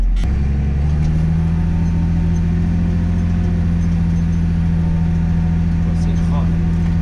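A farm tractor engine runs steadily under heavy load while working the soil deeply, a loud continuous low drone that holds constant throughout, with faint voices in the background.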